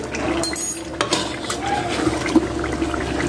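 Chicken korma being served out of a pot, with a steady clatter of a spoon scraping and knocking against the metal, a few sharper clinks standing out over a low kitchen background.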